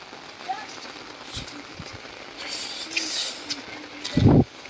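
Steady rain patters on surfaces outdoors as a soft, continuous hiss, with a faint voice and a brief louder thump near the end.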